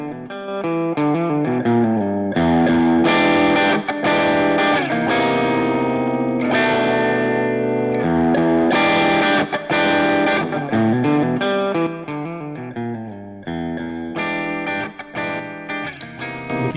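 Distorted electric guitar runs through stacked overdrive in Amplitube amp software, playing loud sustained chords and riffs with chorus and reverb, in continuous close bursts with short gaps and no talking.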